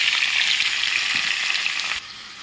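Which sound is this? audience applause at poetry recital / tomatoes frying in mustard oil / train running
tomatoes frying in mustard oil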